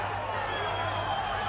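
Stadium crowd roaring and cheering at a 1991 rugby league match between Penrith and Balmain, a broad, sustained wash of distant cheering with no break.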